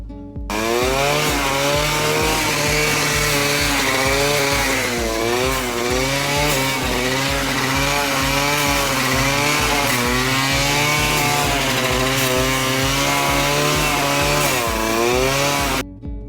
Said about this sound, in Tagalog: pakinggan nyo yung ingay ng grass cutter